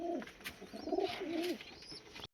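Pigeons cooing close by with soft, rolling throaty coos and a few faint chirps, in a pigeon loft where young birds are being leg-ringed.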